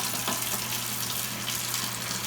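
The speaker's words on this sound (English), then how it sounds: "so I'm getting water in the bucket, guys, so that I can clean my rims" Tap water runs steadily into a bucket being filled for washing car rims, a continuous close hiss and splash with no talking.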